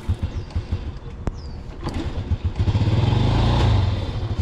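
A Honda Biz C100 motorcycle engine cold starts with the choke on, with a few sputtering cranks before the engine catches and settles into a close, loud, pulsing idle.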